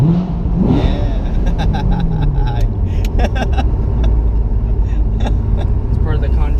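A stock Corvette engine rumbles low and steady while driving, with a rising rev early on and road noise underneath, close and loud as voices talk over it.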